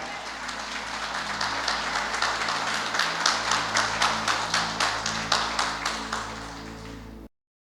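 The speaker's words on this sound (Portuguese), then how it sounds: "Vamos aplaudir bem forte ao Senhor." A church congregation claps together in a steady, rhythmic beat, loud and close, with a few voices mixed in before it cuts off abruptly.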